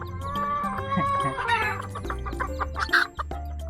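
Labuyo junglefowl hens with their freshly hatched chicks, steady clucking and peeping from several birds close by, overlapping calls throughout with a few sharper cries near the end.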